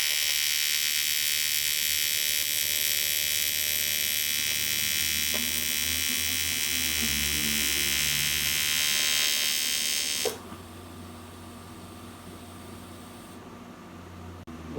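TIG welding on a fabricated oil drain tank for a turbo Subaru EZ30R engine: a steady, loud high-frequency buzz and hum from the arc runs continuously for about ten seconds, then cuts out to a quieter background hum.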